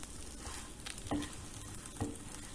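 Steamed muthia tossed in oil in a pan over medium heat fry with a steady sizzle, broken by a couple of soft scraping stirs and clinks.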